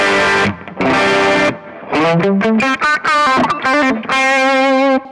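Distorted electric guitar through a Kemper Profiling Amp with the tone control at maximum, bright and loud: two sustained chords, a run of quick choppy notes, then a ringing held chord, played alone.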